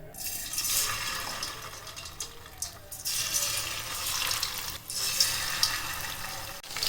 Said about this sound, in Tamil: எண்ணெய் காஞ்சி வந்துருச்சு இப்போ ஒவ்வொரு சிக்கனாக போட்டு பொறிச்சு எடுத்துக்கணும்